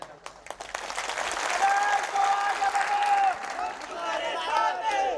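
A rally crowd at an onion farmers' conference bursts into sustained applause. The clapping is dense and continuous, rising and then holding, with a tonal voice or whistle running faintly above it.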